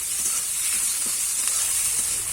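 Garlic and green chillies frying in a pan for chicken kosha: a steady, even hiss and sizzle of hot oil at moderate volume, with no talk over it.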